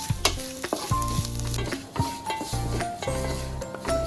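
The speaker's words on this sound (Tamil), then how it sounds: "ஒரு அரை மூடி தேங்காவை நல்லா பொடியாக திருவி இந்த மாதிரி வறுக்க ஆரம்பிக்கணும்" Finely grated coconut roasts in a pan: rhythmic spatula scraping and stirring strokes repeat over a soft sizzle, close and fairly loud, with no voices.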